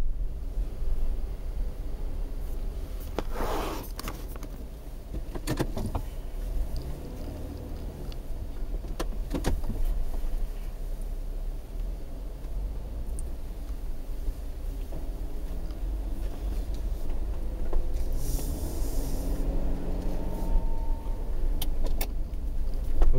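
A police car rolls slowly toward a noise-complaint scene, its engine and road rumble steady throughout, with scattered clicks and rattles inside the cabin and a brief brighter swell near the end.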